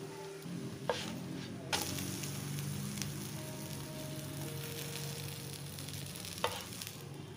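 Liquid chapati made from thin batter cooks on a pan over low flame, giving a soft steady sizzle with a few faint clicks and scrapes, alone and fairly quiet.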